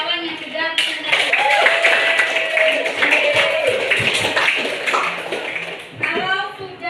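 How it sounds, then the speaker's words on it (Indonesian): Classmates in a school classroom applaud peers who have just finished presenting, a burst of many hands clapping close and loud for several seconds, with children's voices mixed in before and after. "kita kasih aplaus bagi kawan-kawan yang sudah presentasi"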